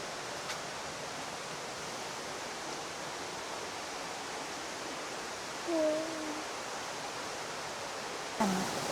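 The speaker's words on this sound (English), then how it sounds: "we just got rained on, which is bizarre." Artificial rain falls steadily in an indoor rainforest, a soft even hiss of water throughout, with short brief voices breaking in near the end.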